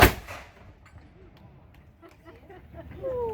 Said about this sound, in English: there's our cannon firing salute here at Fort Mackinac for you today